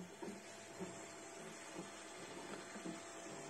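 Stepper motors of a FlashForge Finder 3 or Voxelab Aries 3D printer moving during a print, giving a quiet, steady whirring hum with faint rhythmic ticks and pulses.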